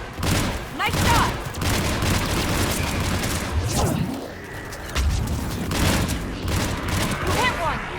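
Rapid bursts of gunfire from the video game Mass Effect 3 during a battle on Thessia, with repeated volleys and booms filling most of the stretch and a short lull midway, mixed with game voices.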